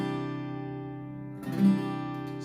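A sustained guitar chord rings steadily, then a soft scrape as the thumb lightly mutes the top string, damping its ring while the lower notes continue.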